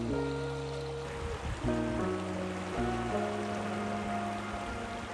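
A mountain stream flows beneath cliffs in Hwayang Valley at Songnisan, a steady broad hiss of running water heard continuously under louder background music.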